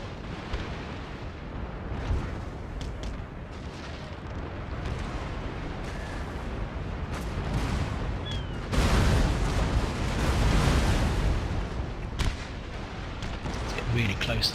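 Ship cannons fire during a naval battle in Napoleon Total War, with repeated booming shots and rumbling blasts that swell into a louder barrage midway, heard over continuous battle noise.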